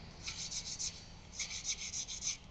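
Music wire spun in a drill press while lapping in a tight bushing on a bell crank, giving two stretches of rapid rhythmic rasping friction, close and fairly quiet.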